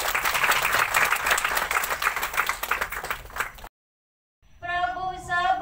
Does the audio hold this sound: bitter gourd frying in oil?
no